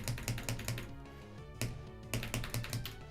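Typing on a Wooting computer keyboard, with quick bursts of sharp key clicks in uneven clusters separated by short pauses, close to the listener and with no talk.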